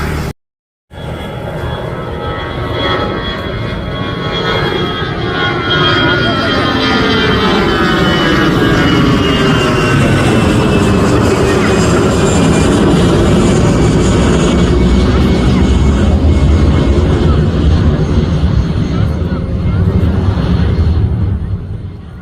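An airliner takes off at Nedumbassery airport, a loud sustained jet engine roar that builds and swells over about twenty seconds, heard from nearby alongside the runway.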